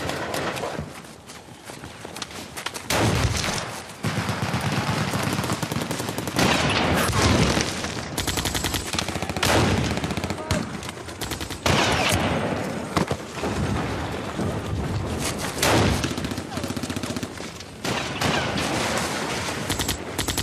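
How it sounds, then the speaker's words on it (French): A dense battle sound effect of submachine gun bursts and grenade explosions, with continuous rattling fire punctuated by louder blasts across twenty seconds, loud and close. "Les mitraillettes crachent. Nos grenades explosent dans les rangs ennemis."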